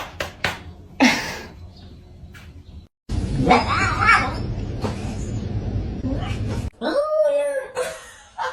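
A plump house cat lets out several loud, drawn-out meows and wailing caterwauls, separated by short pauses, with people talking in between.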